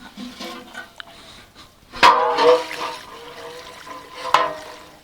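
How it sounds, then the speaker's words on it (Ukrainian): Water is poured out of an autoclave outdoors, pouring and splashing out in gushes, with a couple of louder sloshing bursts over a few seconds, close by. "Воду з автоклаву просто вилити під дерево."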